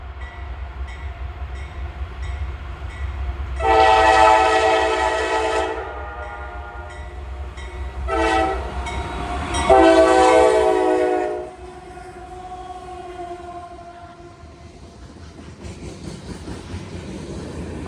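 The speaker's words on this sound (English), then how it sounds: "This train's loaded. Loaded grain train." A loaded grain train with severe flat spots on its wheels rumbles past steadily with a low constant roar, and two long, loud horn blasts sound in the middle before the rumble fades into continuing rolling noise.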